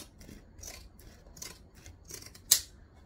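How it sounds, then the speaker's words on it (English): Zigzag pinking scissors snip through thick fabric for a travel bag in a few quiet, crisp cuts with soft rasping between them, one sharper close snip standing out near the end. "You don't have to use zigzag scissors, it's just I like using them, and I like to say zigzag scissors."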